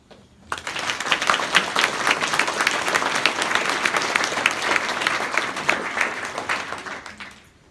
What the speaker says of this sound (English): I applaud them. I applaud you.